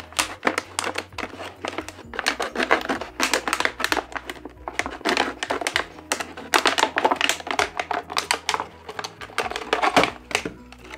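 The top of a container is cut off with a rapid, uneven series of close crackling snips and crunches that continue almost without a break.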